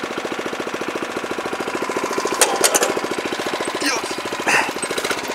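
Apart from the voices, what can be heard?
Mizokiri ditch-cutting rider MKS1000R engine running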